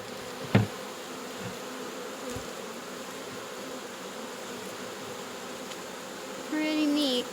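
Bees from a wild honey bee swarm buzzing inside a hive, a faint steady drone with a couple of sharp knocks and a brief louder hum near the end.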